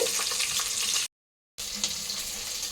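Onions frying with dried red chillies in a pan for a homestyle lentil soup, a steady hissing sizzle that cuts to silence for half a second and then resumes, close and with no talking.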